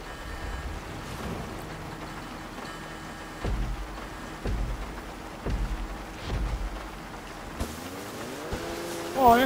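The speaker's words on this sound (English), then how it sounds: "Let's go race some boats in the rain." Speedboats race in the rain in GTA 5: a steady motor drone with repeated low surges as the hulls slap and throttle up, ending in a rising engine whine.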